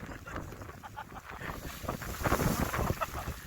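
Strong wind gusting hard over the microphone at the Brona mountain pass in the Beskid Żywiecki at sunset, a continuous roaring buffet that swells louder toward the end, with no talking.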